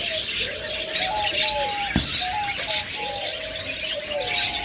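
Budgerigars (English budgies) in a bird shop give repeated bright chirps and warbling calls. A soft cooing from doves or pigeons runs along with them against a busy, noisy room background.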